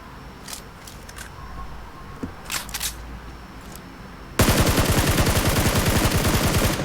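Automatic gunfire in the PUBG Mobile game: a quiet stretch with scattered small game sounds, then a sudden loud, rapid burst of evenly spaced shots that lasts about two and a half seconds.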